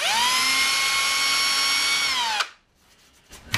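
A high-pitched power drill whines steadily and close while boring a shallow hole for a bolt head, then stops abruptly and leaves near quiet with a couple of faint knocks.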